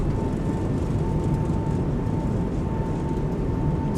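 Airbus A220 thrust reversers roaring in a flight simulator landing, a steady, dense engine rush with a constant whine, loud and unbroken throughout.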